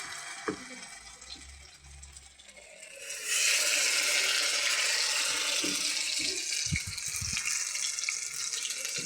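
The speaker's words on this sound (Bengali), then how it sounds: "বাকি যা আছে এগুলো ঢেলে দেবো এখন। ঢেলে দিচ্ছি।" The remaining batter for bara poured into a pan sets off a sudden loud, hissing sizzle a few seconds in. A few faint clinks come before it, and the sizzle then holds steady and close to the end.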